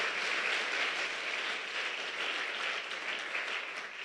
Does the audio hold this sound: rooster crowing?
no